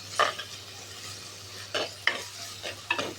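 Tomatoes sauté in oil in a pan, a soft continuous sizzle broken by a few distinct scraping and clinking stirs of a utensil against the pan, with no voices.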